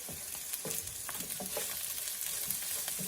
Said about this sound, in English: the garlic, give that a stir